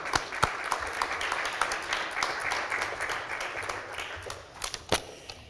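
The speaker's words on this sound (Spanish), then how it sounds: "les pido que le reciban con un fuerte aplauso" Audience applause at a 2015 annual forum session, a steady wash of many hands clapping in a conference hall, with a few sharp louder claps standing out near the start and end.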